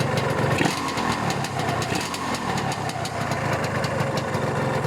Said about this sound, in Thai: รื่องเงียบนะฮะ มีเสียงเครื่องขับนิดๆ เสียงเครื่องขับเนี่ย